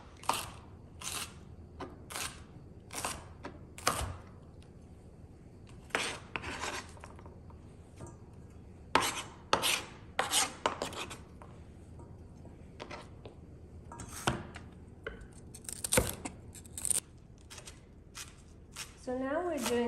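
Fresh cilantro, stems included, is chopped on a cutting board with a kitchen knife while making turkey chili. Sharp, close blade strokes come in irregular bursts, and a voice talks quietly underneath.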